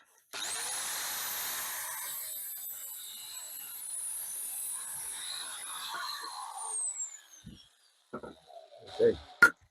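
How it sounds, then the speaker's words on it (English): A hoover vacuum cleaner whines steadily for dust extraction in a woodworking shop, a loud high-pitched drone spinning up and running for several seconds before winding down, followed by a few knocks and brief talk. "We can get the hoover on the go"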